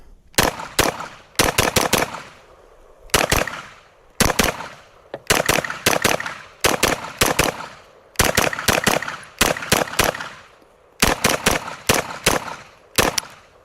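KelTec SDP pistol fired at a range, sharp loud gunshots in quick bursts of two to four, roughly ten rounds in all, each with a short echoing tail and pauses between groups.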